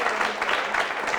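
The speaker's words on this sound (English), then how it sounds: "Come on, put your hands together once again." An audience claps as a brief, steady burst of applause that holds at an even level throughout.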